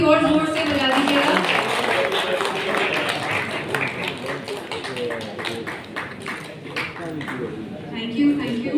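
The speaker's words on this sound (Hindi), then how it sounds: "तालियां थोड़ी और जोर से बजा दीजिएगा।" Audience applause at an award ceremony, dense rapid clapping from many hands carrying on steadily beneath a presenter's voice over the hall's sound system.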